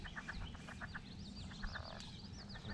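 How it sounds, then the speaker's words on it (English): Frogs croaking at Chickamauga Lake in spring, a chorus of short repeated calls at moderate distance mixed with chirping birds over a soft outdoor background. "Y'all hear them frogs?"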